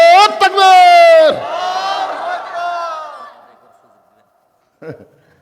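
Loud crowd shouting a drawn-out chant in answer to a takbir call during an Islamic sermon gathering, the roar swelling then fading over a few seconds, followed by a brief burst of voices.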